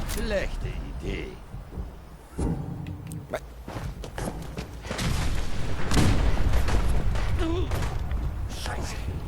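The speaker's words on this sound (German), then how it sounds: "Geht es bei mir einmal ohne Explosionen?" Explosions and gunfire in the video game Fallout 4 Far Harbor, a series of booming blasts and thuds that grow into a sustained loud barrage, with someone talking over parts of it.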